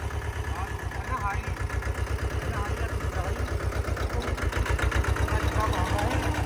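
A small tractor engine chugs steadily at idle, its rapid low thumping pulses continuous and close, rising slightly toward the end.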